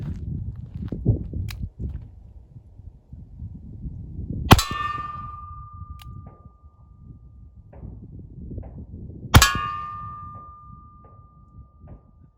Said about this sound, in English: I'm gonna shoot this propane tank. Let's see what a little 22 will do to it.